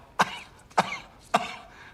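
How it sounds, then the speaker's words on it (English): Three short, dry coughs spaced about half a second apart, close by and moderately loud over a quiet background. "Cough."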